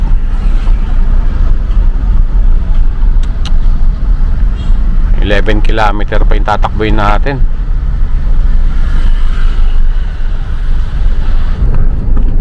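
Interior of a car crawling through heavy traffic on a service road in Bicutan, with a steady low engine and road rumble and wind noise throughout, while a person talks over it for a stretch in the middle.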